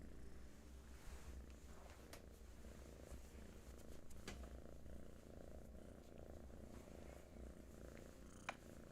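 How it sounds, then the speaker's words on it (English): A contented cat purrs close by, a soft, continuous low rumble that stays faint and even throughout, with a few small rustles. "sure you can hear Hattie now. It's a very happy kitty"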